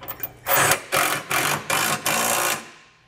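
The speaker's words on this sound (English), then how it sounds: "you can come back with a socket and snug everything down" A socket ratchet snugs down bolts on a Curt Class III trailer hitch being fitted to a 2022 Hyundai Santa Cruz: five quick bursts of close, buzzy clicking in a steady rhythm, alone and fairly loud.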